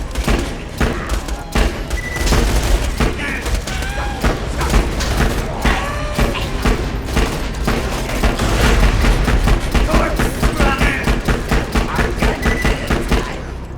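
Rapid bursts of automatic gunfire from a Beta C style double-drum gun in Borderlands 2 pound loudly and continuously, dense overlapping shots with booming low impacts throughout.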